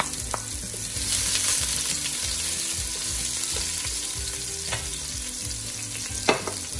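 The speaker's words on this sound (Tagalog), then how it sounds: "Pag mainit na ang mantika, isunod ang 1 whole garlic na chinop-chop ng maliliit." Finely chopped garlic, a whole head, sizzles and fries in hot cooking oil in a pan, with a continuous close crackle and occasional stirring scrapes.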